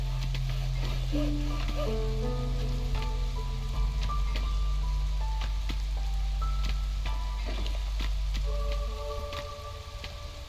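Steady rain patters and sizzles in the Against the Storm settlement-building game, a continuous drizzle wash under soft musical tones, with little or no talk.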